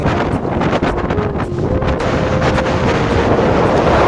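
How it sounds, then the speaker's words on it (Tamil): Strong wind roars across the microphone on a mountain trek up Kontaramgi hill, a loud, continuous buffeting rush with no voices. "அடுத்த கொஞ்ச தூரத்திலே அடிச்சுட்டு பாருங்க ஒரு காத்து, ஐயோ கிழிஞ்சு போச்சு எங்க டீத்து"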